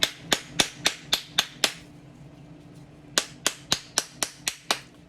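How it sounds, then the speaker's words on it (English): Sharp taps on the bottom plate of an upturned plastic 3D-printed Christmas tree bath bomb mold: a quick run of six evenly spaced knocks, a short pause, then about seven more, close and crisp with no talking. "Turn it over and give some taps on the bottom plate."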